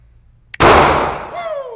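A handgun fires a single loud, close shot during a permit class shooting drill on a range, its sharp report decaying over about a second with no talk.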